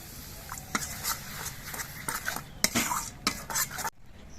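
Ground spices in a pan for pomfret fish curry with a little water added, heard as rapid, repeated metal spoon scrapes and clinks against the pan over a faint sizzle, ending abruptly.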